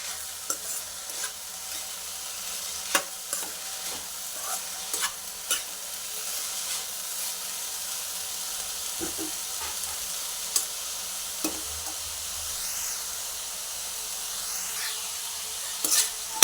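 Banana stem thoran stirred as it fries in a pan, a soft constant sizzle broken by repeated sharp spoon taps and scrapes against the pan, close and alone.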